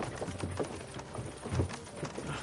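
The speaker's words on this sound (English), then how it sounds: "can't you make the horses go a little faster, Grandpa?" Horses' hooves clip-clop steadily on a road in the video game Kingdom Come: Deliverance II, a continuous rhythmic trotting beat at close range with no speech over it.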